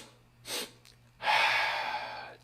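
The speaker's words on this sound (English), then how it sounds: "We take 2 sniffs in the nose and 1 sigh out" During a breathing exercise, two quick sniffs in through the nose come close together, followed by a long, breathy sighing exhale, all near and clear with no talking.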